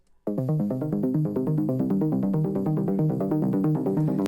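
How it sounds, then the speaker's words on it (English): A synth arpeggiator runs at its fast default rate, a rapid, even stream of bright repeating notes cycling up and down a chord, loud and steady with no pauses. "if I turn this on, by default, it sounds like this"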